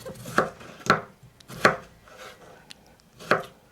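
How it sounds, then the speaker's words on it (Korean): A knife chopping potato into small cubes on a board: four distinct, sharp chops at an uneven pace, close and clear with quiet gaps between. "깍두기 모양 썰듯이 송송 썰어서 한번 씻어야 되겠다"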